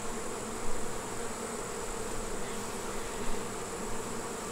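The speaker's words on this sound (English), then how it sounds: "I've got an angry beehive here" An angry colony of honeybees roars in a steady, dense buzz close by at a beekeeper's hive, swelling briefly now and then.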